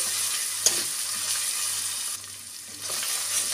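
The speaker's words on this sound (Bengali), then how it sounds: "পেঁয়াজটা ভালো করে কষিয়ে নেব।" Sliced onions for an echor (young jackfruit) and potato curry sauté with salt in a pan, giving a steady soft sizzle and crackle close by, with a light clink of a utensil early on and no talking.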